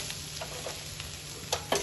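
Chopped coriander being mixed into dal with eggs as it fries, a soft steady sizzle with a few scraping spoon strokes, the loudest near the end, no voices.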